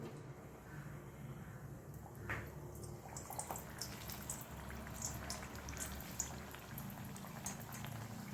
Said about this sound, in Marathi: आणि आता आपण ही कचोरी तळून घेणार आहोत तेलामध्ये